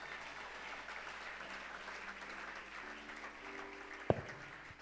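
A church congregation applauds together in a hall, a fairly faint, sustained wash of clapping that holds steady, with a single sharp knock near the end.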